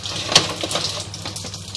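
Water running through a city sewer pipe about eleven feet below a street, a steady hollow rush with a faint splash, close and moderately loud.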